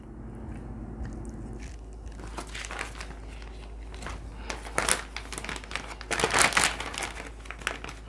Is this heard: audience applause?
no